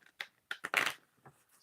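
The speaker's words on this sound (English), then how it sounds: "Sorry, I'm not trying to shuffle" Soft, quick bursts of tarot cards being shuffled, riffling close by and quietly in a few short flurries.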